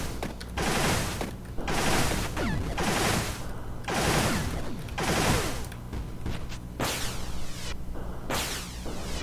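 Rapid Thunderhead bullet fire in the shooter game Star of Providence: a loud, dense stream of repeated blasting bursts that runs throughout with little pause.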